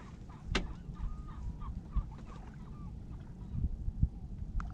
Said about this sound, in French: on entend vraiment tous les bruits des oiseaux